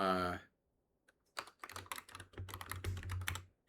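A brief voice opens, then after a pause comes quick, uneven typing on a computer keyboard: clusters of close, sharp key clicks that keep going to the end.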